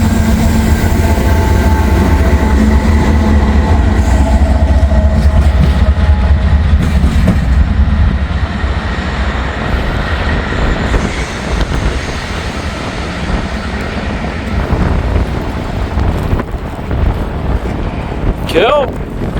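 A freight train with double DPU locomotives passes close by, a steady loud rumble of engines and rolling cars with wind buffeting the microphone and a brief squeal near the end.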